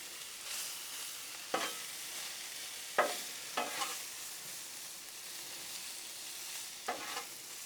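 Cut-up sausages sizzle on a Blackstone griddle alongside shrimp, a steady close hiss broken by several sharp scrapes and taps of a spatula on the metal surface, with no talking.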